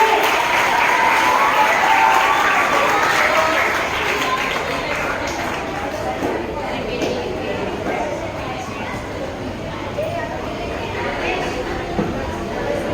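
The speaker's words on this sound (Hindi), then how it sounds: "बच्चों तालियां बजती रहनी चाहिए।" Schoolchildren at a Hindi Bhasha Divas prize giving in a Kurla school keep up a dense, continuous patter of applause, fairly loud at first and easing slightly, with voices audible underneath.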